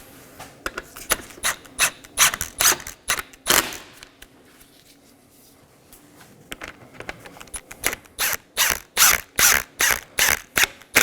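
A hand ratchet snugging down radiator bolts on a 2018-2024 Chevrolet Equinox 1.5L, sharp rapid clicking strokes in two bursts separated by a short quiet pause, close and crisp.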